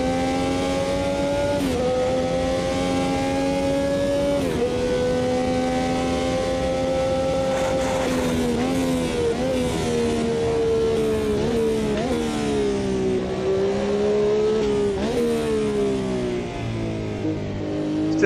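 Brabham BT46B fan car in the racing game Automobilista 2, its engine screaming loud and sustained at high revs, with pitch rising and dipping as gears change.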